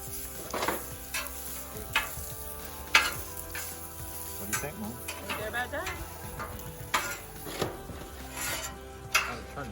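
Pancakes sizzle on a hot Camp Chef griddle outdoors, a steady frying hiss broken by intermittent scraping and clicking of a spatula, with occasional voices nearby.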